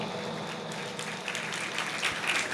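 Audience at a Jain religious gathering clapping in approval, a short burst of dense applause that swells slightly toward the end, fairly close, with no talking.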